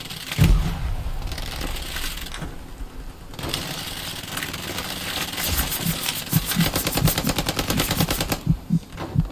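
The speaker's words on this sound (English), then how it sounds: "That is enemy fire." Enemy gunfire in the World War II shooter game Hell Let Loose: distant and mid-range automatic bursts and scattered single shots crackle over a rumbling battlefield backdrop, with a dense rapid-fire stretch near the end.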